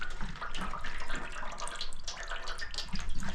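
Coolant draining out of a GasGas motorcycle engine, a close, continuous splashing trickle of liquid with gurgling bursts, steady throughout.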